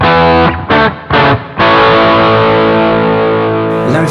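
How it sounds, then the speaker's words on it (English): An overdriven electric guitar patch on a Boss GT-1000 multi-effects unit with the wah off plays a few short loud chords, then one sustained distorted chord that rings on alone. "here's how this patch sounds with the wah switched off"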